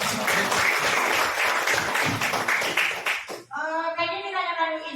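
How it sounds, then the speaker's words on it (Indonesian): Audience applause at a teachers' positive-discipline dissemination session, dense clapping from a room of people for about three seconds, then it cuts off and a voice speaks. "Kita kasih aplaus dulu untuk pertanyaan"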